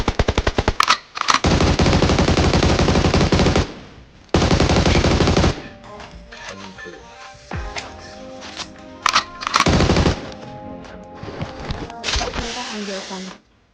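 Rapid automatic gunfire rattles in long, loud bursts during a PUBG Mobile match. Short pauses separate the volleys, and a few single shots and quieter game noises come in between.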